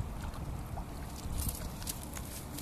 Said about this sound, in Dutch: Komt nog een bootje aan, hè?